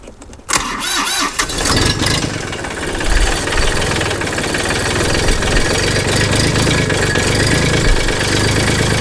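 A small diesel tractor engine cranks and catches with a sharp start, then settles into a steady, loud, close idle as it warms up, running on alone without talk.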